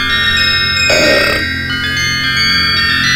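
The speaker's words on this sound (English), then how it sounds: "Burp, damn you, burp." One long, loud burp rises abruptly in the middle of a psychedelic Space Giraffe game soundtrack, standing out clearly over the steady electronic music.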